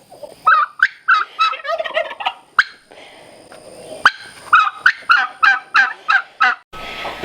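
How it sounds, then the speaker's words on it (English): Turkeys on a small farm gobbling loudly and close by in a rapid series of repeated gobbles, with a short lull midway before another run of calls. "I think the turkeys have something to say."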